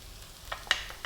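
Garlic and ginger sizzle in a frying pan with a soft, steady hiss, broken by a few small pops and stirring scrapes, faint and close without voices.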